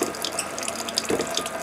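An RV faucet runs with pink antifreeze while the plumbing is being winterized, a steady close splashing stream of liquid falling into a sink for the whole stretch, with no voices.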